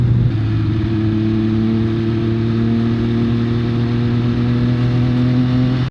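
A steady, droning engine hum from a car cruising along a road, constant and unbroken, with no voices.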